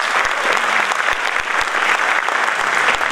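Audience at a live music tribute event applauding loudly, a thick continuous burst of clapping from a sizable crowd with a few louder individual claps standing out, heard up close.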